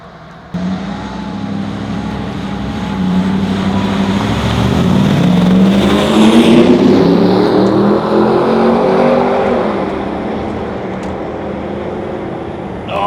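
Two Land Rover Defenders drag race from a rolling start, one with a Chevy LS3 V8 and one with a BMW 330d M57 diesel, their engines rising together in a loud accelerating roar that swells, peaks and fades.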